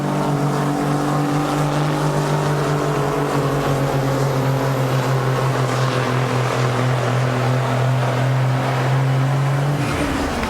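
A 1984 Kenworth cab-over truck roars at a truck pull with a loud, sustained engine drone and strong steady harmonics. The roar cuts off abruptly near the end.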